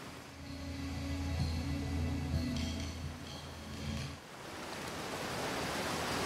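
A waterfall in Outer Wilds, played in VR, makes a steady broadband rush of falling water that swells louder and fuller after a brief dip, continuous and fairly close, with no voices.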